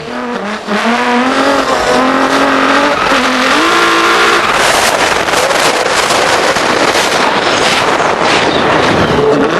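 A Nissan Micra races on a snow track between snow walls, its engine revving loudly with rising and falling pitch as the car accelerates, then a dense, harsh roar of skidding and spinning over the snow, continuous and close.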